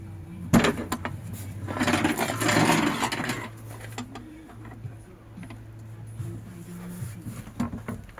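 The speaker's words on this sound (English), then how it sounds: "this is where we tie the rebar using the Makita rebar tire" A Makita rebar tier ties rebar on a basement underpinning job, giving a sharp mechanical snap followed by a whirring, rattling burst, with faint clicks and site noise after it.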